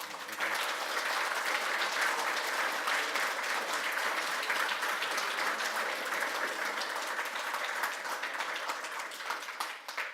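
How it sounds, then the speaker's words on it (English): Audience applause at the close of a 2024 general election hustings meeting in Sprotbrough, a dense, steady roar of many hands clapping that holds evenly for about ten seconds with no talk over it. "can we give another round of applause?"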